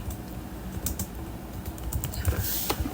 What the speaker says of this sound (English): Let's try typing in another message.